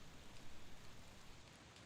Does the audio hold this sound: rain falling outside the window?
yes